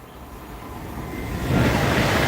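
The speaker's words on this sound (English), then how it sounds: "It's a Pendolino." A Pendolino train approaching and passing at speed on the West Coast Main Line, a rising rush of rail noise that swells louder and broader as it nears the lineside.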